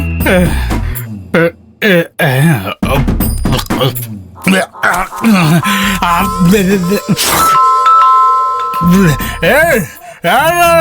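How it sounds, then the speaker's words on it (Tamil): A doorbell rings with a sustained electronic chime partway through, surrounded by lively back-and-forth talking. "காலிங் பெல் அடிக்கிறது"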